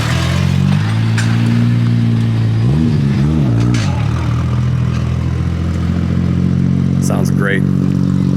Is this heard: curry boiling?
no